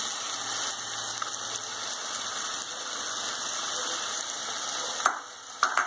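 Mutton curry with chilli and masala powders sautéing in oil in a pan, giving a steady, rain-like close sizzle that runs throughout, ending with a few sharp clacks of the spatula.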